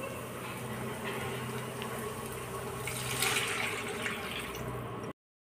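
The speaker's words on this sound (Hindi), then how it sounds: "अब इसमें पानी ऐड कर लेते हैं।" Water poured into a cooking pan of lightly cooked peas for upma, a steady splashing gush heard close for about five seconds before cutting off abruptly.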